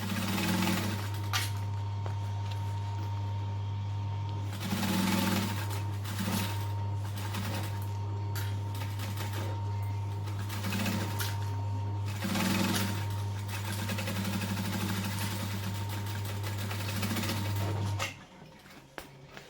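A domestic sewing machine stitches a bag gusset seam with backstitching, its steady motor hum running in several sustained bursts separated by short pauses, loud and close, with no talking.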